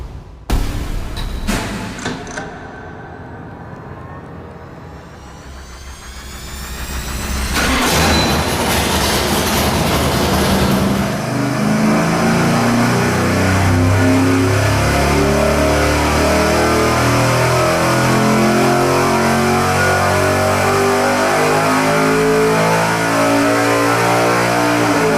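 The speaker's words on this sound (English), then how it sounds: "Okay, our 400 is hung on the dyno." A 400 engine with a flat tappet cam revs hard on a dyno, building from a low rumble into a loud, sustained high-RPM buzzing roar that holds steady to the end, with no voices.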